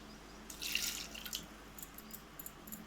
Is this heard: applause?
no